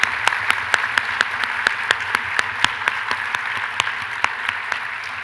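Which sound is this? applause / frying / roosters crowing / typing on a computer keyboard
applause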